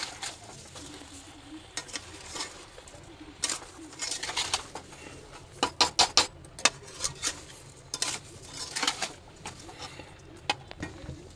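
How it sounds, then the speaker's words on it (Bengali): Sweet mango pickle cooking with sugar in a pan is stirred. A soft bubbling sizzle runs underneath irregular sharp scrapes and taps of the spoon against the pan, some in quick bursts. "তো এবারে কিন্তু আরেকটু ভালো করে নাড়াচাড়া করে নিচ্ছি"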